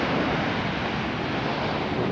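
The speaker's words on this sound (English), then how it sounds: "Waves are hitting." Ocean surf breaks on the shore in Kauai, a dense, continuous wash of roar with wind buffeting the microphone, close and fairly loud.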